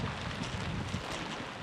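Strong wind buffets the microphone over open water, with a steady rushing hiss that may carry rain, loud and close throughout with no voices.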